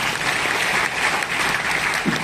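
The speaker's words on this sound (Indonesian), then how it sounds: "sekali lagi kita berikan tepuk tangan yang meriah" An audience at a national young researchers' competition event applauds steadily, a dense, even wash of clapping from many hands that holds without a break for over two seconds.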